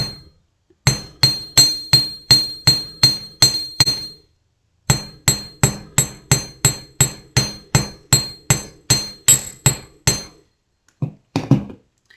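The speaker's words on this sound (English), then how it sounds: "So you can see that I didn't hammer too much." A hammer taps metal wire earrings on a bench block in two rhythmic runs of evenly spaced, ringing strikes, each about half a second apart, close and crisp, with a brief clatter at the end.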